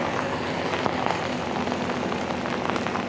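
Rain falling steadily on a Jakarta city street while riding a motorcycle, a dense, even hiss of drops with road noise beneath, no speech.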